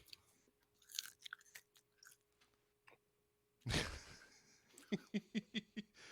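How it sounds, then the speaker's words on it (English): A crunchy edible bug chewed close to the microphone, with quiet nibbles first, then a loud crunch followed by a rhythmic series of crisp chomps. "the headphones do amplify the crunch. Oh, good. Well, here's a little crunch for you, Sean."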